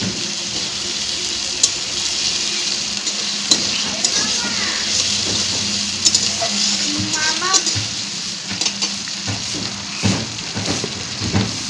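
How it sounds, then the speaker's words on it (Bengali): Fish with ground spice paste is stirred and mixed in a sizzling pan, with scattered scrapes and clinks of the utensil over steady frying and a little running water nearby. "ভালো করে মিশিয়ে নেব।"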